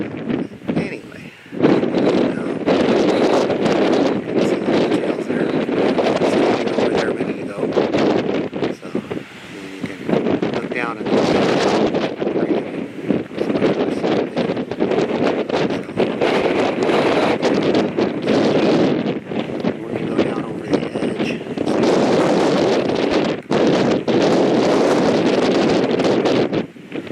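Strong gusts buffet the microphone at a mine site, a loud, steady roaring rumble that rises and falls almost without pause and buries everything else.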